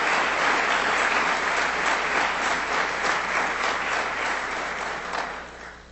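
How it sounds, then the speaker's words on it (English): A big, sustained round of applause for teachers at a school district board meeting, dense and steady from a full room before gradually thinning toward the end. "let's give these folks a big round of applause to start with."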